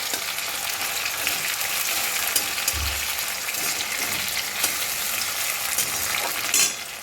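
Onion and tomato frying in a pan, a steady close sizzle with light stirring and a soft knock near the middle, no voices.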